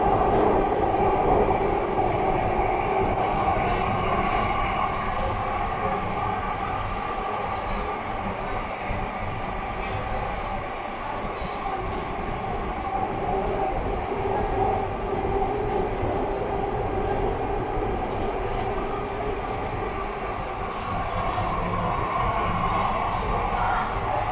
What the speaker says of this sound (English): Being an underground metro, there is nothing much special to show what's happening outside